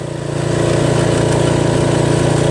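A Toro Wheelhorse Recycler riding mower with a Briggs 8HP engine runs at full throttle. It makes a loud, steady, close engine drone that rises briefly at the start and then holds even.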